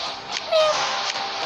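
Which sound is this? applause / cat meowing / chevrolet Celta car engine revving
cat meowing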